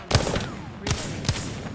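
Gunfire in an online shooter video game: three separate sharp shots, spaced unevenly and fairly close, with a faint background hiss between them and no talking.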